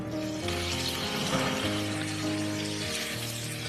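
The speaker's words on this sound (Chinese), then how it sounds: "那现在我们把这个藕饼依次放进来。" Lotus root and meat patties laid one after another into oil heated to about sixty percent, giving a steady loud sizzle and bubbling up close, with a faint tonal hum in the background.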